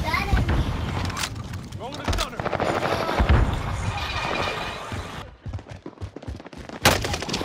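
Automatic gunfire in a multiplayer shooter game, loud bursts of shots mixed with explosions and effects, heard under frequent voice chatter and in-game callouts.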